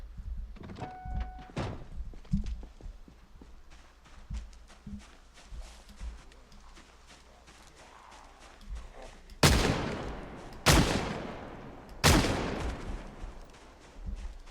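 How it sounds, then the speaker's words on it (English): Three loud, sharp gunshots ring out in close succession near the end during a Project Zomboid survival game, after a stretch of quiet thuds, footsteps and low ambient noise. "shooting probably was not the best idea there"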